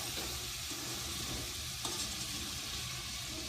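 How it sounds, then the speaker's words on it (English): Elephant garlic and potato stew sizzles steadily in a pot while being stirred, a constant close frying hiss with faint scraping and no talk. "occasionally stir it so that everything gets cooked and browned a little bit"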